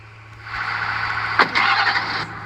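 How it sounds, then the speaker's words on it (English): A farm truck engine runs steadily while being hooked up to a fuel trailer, a close mid-pitched drone that rises briefly in revs partway through. "Now we're gonna get our truck hooked up to the fuel trailer"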